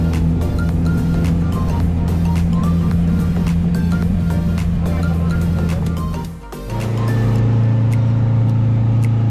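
A jeep's engine drones steadily and loudly from onboard on an offroad drive along the slopes of Mount Lawu, the tone dipping briefly then settling lower as it continues, with rumbling and rattling throughout.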